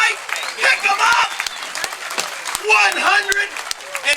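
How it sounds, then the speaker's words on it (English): Crowd applause and cheering for a bass fishing champion at a tournament weigh-in, bursts of clapping under an excited announcer voice, rising and falling. "Big round of applause for this guy"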